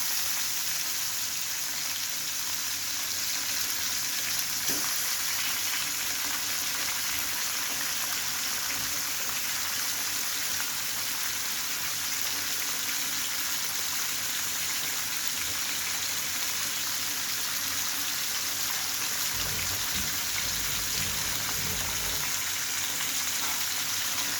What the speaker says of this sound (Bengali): ভালো করে তেলটা গরম হলে মাছটা দিতে হবে না হলে লেগে যায় দেখি সবগুলো একসাথে ভাজতে পারি কিনা